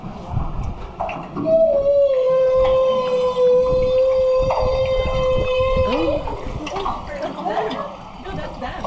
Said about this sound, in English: Placed a hydrophone in the water so we could hear the whales singing.